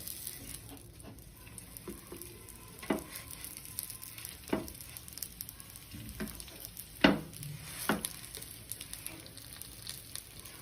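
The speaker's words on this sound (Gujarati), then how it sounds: "હવે આપણે ફ્રેન્કી લઈશું અને આવી રીતના આપણે બંને સાઈડથી શેકી લઈશું." A paneer frankie roasts in oil on a nonstick tawa, turned to cook both sides: a soft, steady sizzle up close, broken by scattered spatula taps and scrapes.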